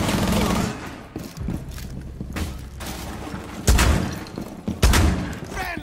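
Gunfire in Rainbow Six Siege, a video game: scattered close shots and heavy bangs over a noisy background, with two especially loud booming shots near the end and voices talking in between.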